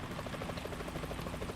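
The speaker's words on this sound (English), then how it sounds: "Is that a chopper I just heard?" A helicopter in Metal Gear Solid 2 approaching: a quick, rhythmic rotor thumping that pulses steadily at moderate distance, brief and fairly faint, with no voices.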